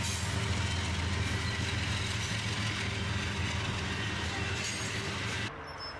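A long freight train rolls steadily past close by, a mid-train DPU locomotive among its cars, with a dense continuous rumble and wheel noise that cuts off abruptly near the end.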